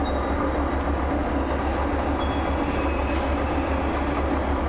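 Train rolling along the track in the Derail Valley simulator with a continuous low rumble and grinding rail noise, plus a few faint high squeals from the wheels, loud and unbroken with no talking.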